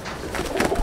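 Inside a loft in Andul, Howrah, Chennai breed pigeons let out a brief burst of low cooing mixed with light rustling, close and without speech.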